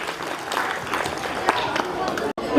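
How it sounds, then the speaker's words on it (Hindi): Applause from an audience at a school Republic Day program, a steady patter of many hands clapping with a voice speaking over it, cut briefly near the end. "clap your hands together for Rajneesh Kumar"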